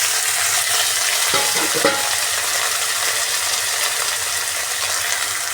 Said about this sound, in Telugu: బాగా మంచి కలర్లో వచ్చే వరకు ఫ్రై చేసుకుందాము గోల్డెన్ కలర్లో వచ్చే వరకు